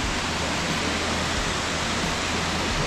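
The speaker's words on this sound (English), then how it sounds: "Waterfall." A waterfall pours steadily beneath a bridge in Dean's Village, Edinburgh, a dense, unbroken roar of rushing water, loud and close throughout with no talk over it.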